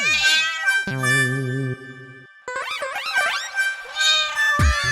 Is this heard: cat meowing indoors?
yes